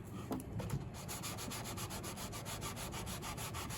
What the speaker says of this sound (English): Hard to sand. This stuff resists everything, this shellac.